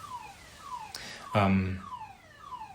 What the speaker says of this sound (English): It's an alarm outside.